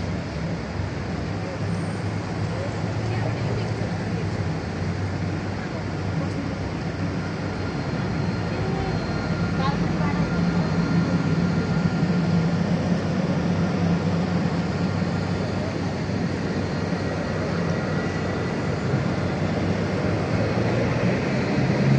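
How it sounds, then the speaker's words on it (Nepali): A low, sustained rumble of a Dubai metro train rolling past, steady and moderately loud for about twenty seconds, with faint background noise and no talk. "यो मेट्रो चाहिँ यताबाट आउँछ है, मेट्रो खिच्छु म।"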